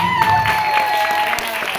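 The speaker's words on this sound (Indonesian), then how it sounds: "Tepuk tangan untuk Zaki." A school audience claps for a class 7C student after a poem recital, with brief steady applause over a faint tonal hum and murmur.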